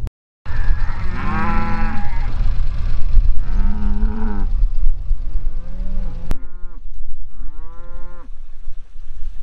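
Cattle moo repeatedly in long, loud drawn-out calls, several overlapping animals close by on a farm, with steady outdoor background noise and a short silent gap at the start.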